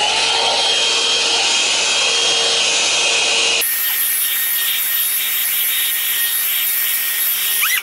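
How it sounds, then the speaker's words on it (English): A Bondi Boost hair dryer blowing on the lower lengths of hair gives a loud, continuous airy roar that shifts tone partway through as the airflow or setting changes. "now I'm gonna blow dry the bottoms with the Bondi Boost"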